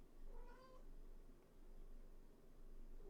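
A house cat gives a single short meow, faint and off to the side, over a steady low background hum, with nothing else happening afterward.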